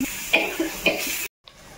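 Spices and bay leaves roasting in a pan for shahi paneer: a brief close sizzle with a few scraping stirs, then an abrupt cut to near silence.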